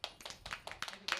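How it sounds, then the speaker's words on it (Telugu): Scattered hands clapping at a 100-songs celebration, a short burst of several claps close by with faint voices under them. "శాలిని గట్టిగా చప్పట్లు కొట్టాలి."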